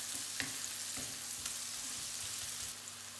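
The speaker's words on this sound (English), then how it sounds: "Now I'm going to let this onion cook for 2 minutes before I add the garlic." Chopped onion sizzles in hot oil in a pan, a steady crackling fry with a few soft clicks of stirring, alone and without talk.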